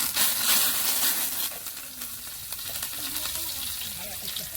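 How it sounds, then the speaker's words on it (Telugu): Curry leaves dropped into hot oil for a fish, crab and prawn curry, a loud, crackling sizzle that bursts at first, then settles into a steady fry with faint stirring. "తర్వాత కరివేపాకు వేసుకోవాలి."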